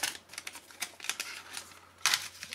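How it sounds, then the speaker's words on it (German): Crinkly foil and paper rustles as McDonald's Panini FIFA World Cup Russia 2018 sticker packets are torn open, with quick close-up tearing bursts and a louder rip near the end. "jetzt gucken wir noch mal in die Stickertüten und was uns da an Stickern von McDonald's erwartet."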